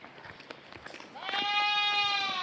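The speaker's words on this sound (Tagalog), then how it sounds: "Ang ingay pala ng kambing" A goat lets out a loud, drawn-out bleat nearby, preceded by quieter rustling and faint background noise.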